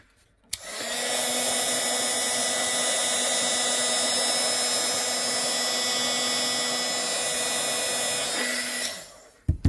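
Heat gun blowing steadily on the plastic leg of a 1990 Teenage Mutant Ninja Turtles toy, a loud, constant whirring roar that starts abruptly and runs alone for about nine seconds before cutting off.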